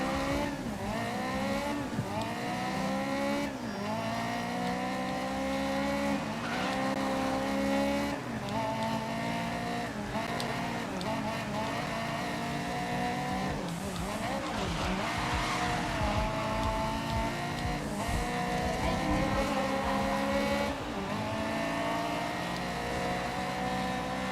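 Race car engines rev and whine through gear changes in the GRID racing video game, with tire squeal and skidding, a loud continuous wavering drone throughout and no voices.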